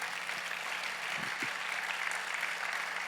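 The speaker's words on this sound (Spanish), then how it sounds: "Aplauda el nombre de Cristo Jesús." Steady applause from a congregation at a church conference gathering, an even, continuous wash of many hands clapping at moderate loudness, with a faint voice briefly audible underneath.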